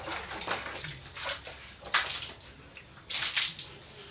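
Water trickles slowly from a low-pressure household faucet onto a thick bed sheet being hand-washed, giving a continuous splashing hiss with a few louder sloshing surges, close by and with no talking.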